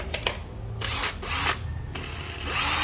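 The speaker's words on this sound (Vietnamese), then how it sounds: "cây này khoan sắt khoan đồ là vô tư luôn ha" Used Japanese 12V cordless drill, EZT 103 body with battery pack, running in several short bursts of whirring with brief pauses between, close and moderately loud over background hum.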